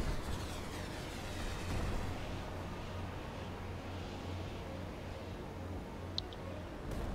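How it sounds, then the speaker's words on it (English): Missile launch and blast rumble in Carrier Command 2, a heavy continuous low roar with a sharp pop near the end, fairly loud and steady throughout with no voices. "Okay, firing another missile."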